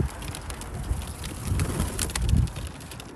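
Racing pigeons coo softly in low throaty bursts around a loft, several calls rising and falling over light wind noise, close by with no talking.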